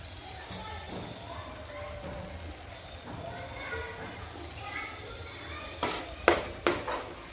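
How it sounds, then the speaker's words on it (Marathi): Chopped coriander, homemade garam masala and asafoetida fry quietly in a pan for a cluster bean curry, a soft sizzle under light stirring, ending with several sharp spoon clinks against the pan. "हे सर्व चांगलं फ्राय करून घेऊ"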